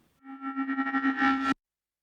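A swelling reversed reverb effect, a tonal wash that builds in loudness with pulsing texture before cutting off abruptly into silence.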